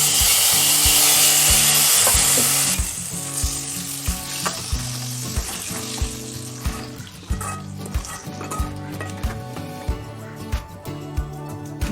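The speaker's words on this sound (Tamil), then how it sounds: "அந்தளவுக்கு வறுத்தா போதும்" Dried turkey berries (sundakkai vathal) frying in hot oil for vatha kuzhambu: a strong, steady sizzle at first, then softer crackling broken by repeated scraping and stirring knocks in the pan.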